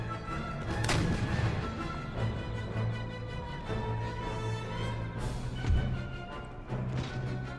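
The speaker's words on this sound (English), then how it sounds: "Got the general, either through a musket ball or an artillery shot." Artillery shots and musket fire from an Empire Total War battle: a steady, distant din of scattered reports and dull booms rolls on continuously, with one heavier thump standing out near the end.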